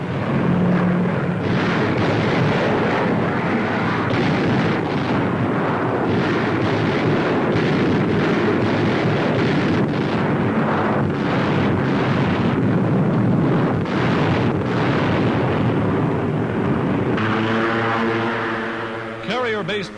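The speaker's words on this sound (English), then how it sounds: "Now, low-flying B-25s unload tons of delayed action bombs." Delayed action bombs dropped by low-flying B-25 aircraft explode in a sustained, heavy roar of blasts and rumbling, dense and continuous throughout, with a voice coming in near the end.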